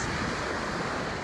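Ocean waves wash onto a Florida beach as a steady, loud, broadband roar of surf with some wind noise, continuous and close, with no voices.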